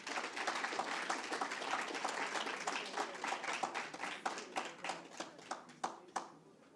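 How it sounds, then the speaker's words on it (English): Applause at a debating competition final, a full round of clapping that thins out toward the end into a few scattered, distinct claps before stopping. "Round of applause."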